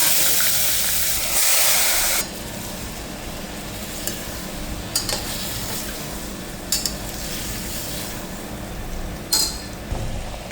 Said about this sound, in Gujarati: થોડું જીરું લઈ લઈશ તેલની અંદર